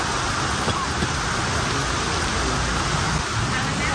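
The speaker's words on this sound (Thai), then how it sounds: "ฝนยังไม่หายเลย" Steady rain falls close by on an outdoor street-food stall, a dense continuous hiss with faint background activity and no clear voices throughout.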